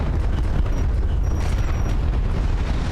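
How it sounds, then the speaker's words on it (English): Airstrike explosions in the Homeworld: Deserts of Kharak strategy game, a dense continuous rumble of booms filling the whole stretch, loud and close with no talking. "Enemy airstrike inbound."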